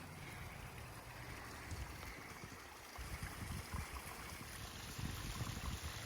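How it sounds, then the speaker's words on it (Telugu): A small waterfall in Mount Rainier National Park gives a steady rush of flowing water, murmuring continuously in the background with a faint hiss. "ఎక్కడ వాటర్ సౌండ్ వస్తుంది, ఏమన్నా ఫాల్స్ ఉందా ఏంటి?"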